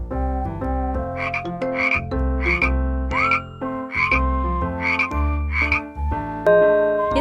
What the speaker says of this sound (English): It's a frog.